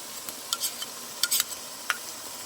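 Ground chili, ginger, garlic and cumin paste frying in a pan for a sarputi fish curry, a soft steady sizzle with a few light spoon taps and scrapes.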